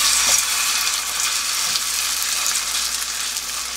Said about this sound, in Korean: 저는 기름을 좀 넉넉히 들어가서 좀 자글자글 구워줘야지 고소하고 맛있거든요.